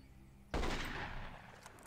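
Gunfire erupts in Marine Sharpshooter 2: Jungle Warfare, a loud sudden burst of rapid shots that cuts in after a half-second of quiet and trails into a decaying rattle, no talking.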